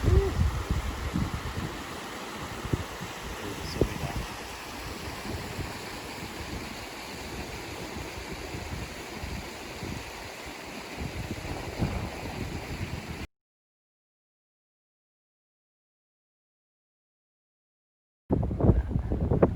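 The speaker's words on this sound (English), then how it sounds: "Whoa, the wind just picked up." Strong wind gusts roar and buffet the microphone continuously on a mountain climb near a lake, then drop out abruptly before resuming.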